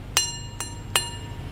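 A metal motorcycle exhaust pipe being tapped three times, each tap a short bright ringing clink with lingering metallic tones, over a low background hum.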